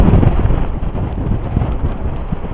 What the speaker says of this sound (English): it is really strong winds down here